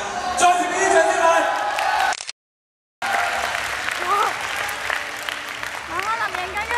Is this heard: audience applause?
yes